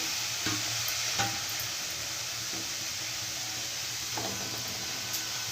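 Washed radish hits a heated kadai, giving a continuous close sizzling hiss with a few faint scrapes of stirring, steady throughout and no talk.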